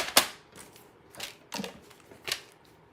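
Paper being cut for a handmade card in a home craft room, giving a few separate crisp snips and slicing strokes, close and fairly quiet, with pauses between them.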